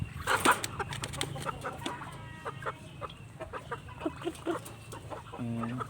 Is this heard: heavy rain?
no